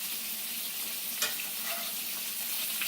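Scallops and lobster tail sear in hot oil in a pan, giving a steady, close crackling sizzle with a brief sharper spatter partway through; no talking.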